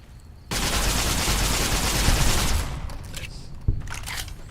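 A loud burst of sustained weapon fire in Fallout: New Vegas erupts abruptly and roars for about two seconds, then trails off into fainter scrapes and a single sharp thud.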